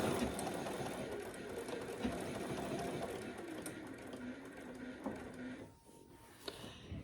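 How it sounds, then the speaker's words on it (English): A sewing machine runs in bursts as it top stitches along the edges of a fabric clutch, a fairly quiet mechanical whir that stops briefly near the end before a short restart. "We're gonna top stitch the top, the open side edge, and the bottom."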